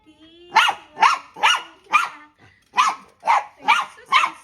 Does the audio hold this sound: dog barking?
yes